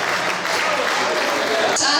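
An audience applauds at an SDS party members' regional meeting, a dense, loud wash of clapping that holds steady throughout, with voices mixed in.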